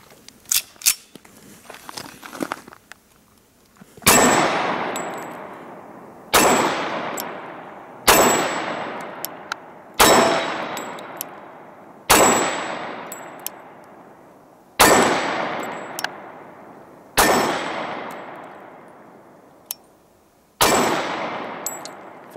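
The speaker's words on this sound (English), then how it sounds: "A little one-handed shooting there, the magazine performed flawlessly" A nickel-finished Sig Sauer Compact 1911 pistol fired one-handed: after a few faint clicks, nine loud, sharp gunshots ring out alone at a steady pace, roughly two seconds apart, each followed by a short decaying echo.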